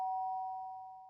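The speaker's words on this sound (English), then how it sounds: "the sound of the doorbell forced its way into my room" A doorbell chime from the video game Danganronpa sounds once as a clear, sustained electronic tone that fades away over about a second, with nothing else heard.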